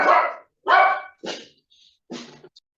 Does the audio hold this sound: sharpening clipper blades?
no